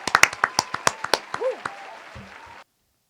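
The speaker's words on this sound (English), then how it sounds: "give us a round of applause" A short round of applause on a podcast, a dozen or so distinct claps in a quick uneven burst over about two seconds, with a brief vocal sound near the end before silence.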